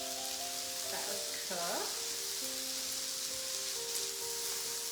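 Patty pan squash sizzling in a hot pan, a steady soft frying hiss throughout, with a person speaking briefly over it.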